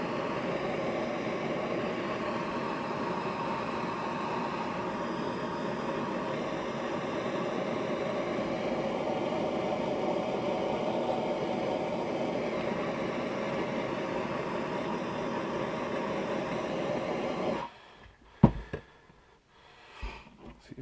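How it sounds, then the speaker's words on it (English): A torch heating a part of a DPMS GII .308 rifle gives a steady, close roaring hiss that holds for about seventeen seconds, then cuts off abruptly and leaves a few faint clicks and knocks. "Got my torch here. We're just going to heat that up a bit"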